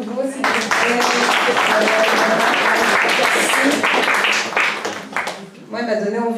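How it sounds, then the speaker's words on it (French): An audience at a formal address claps in a dense, lively burst that swells, then thins before a brief fresh rise, with voices mixed in. "On l'applaudit de nouveau, s'il vous plaît."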